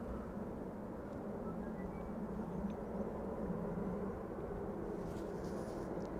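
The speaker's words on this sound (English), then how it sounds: "Police helicopter." A police helicopter flying in the distance on a calm, windless day near an airport, a faint, steady low rotor rumble carrying evenly through the air with no nearby voices.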